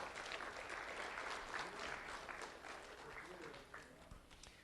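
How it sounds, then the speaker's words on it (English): An audience at a sheriff's office award ceremony gives a sustained round of applause for a student recipient, a dense, fairly distant clatter of many hands that slowly tapers, with faint voices underneath. "Round of applause for Juan Lobo."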